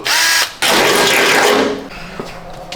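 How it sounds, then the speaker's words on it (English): A drill with a larger bit bores in loud, close bursts outdoors, a short run, a brief pause, then a longer whirring spell that winds down. "That's how you use a bigger drill bit right there"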